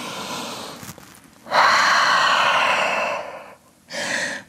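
A deep yoga breath taken in downward dog pose: a long, strong airy inhale of about two seconds, close and fairly loud, followed by a pause and then a shorter breath.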